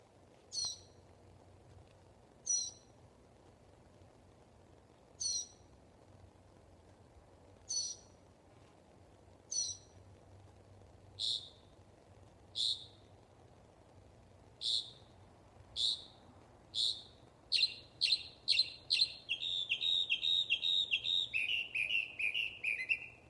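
A noisy nocturnal bird calls over and over with sharp, high chirps spaced a few seconds apart, then speeds into a fast, almost continuous run of calls near the end, above a low steady background hum.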